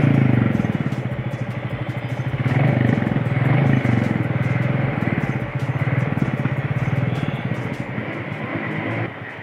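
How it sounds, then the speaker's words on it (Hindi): A 2023 Royal Enfield Bullet 350cc motorcycle's thumping exhaust putters steadily and loudly for several seconds, its rhythmic beat rising slightly in the middle, with no talking. "अगर इसकी साइलेंसर की अगर मैं आपको आवाज़ सुनाऊं"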